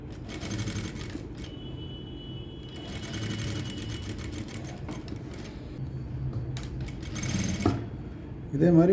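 A sewing machine stitches a blouse with thread piping, running as a steady close whir with faster rattling bursts and short pauses throughout.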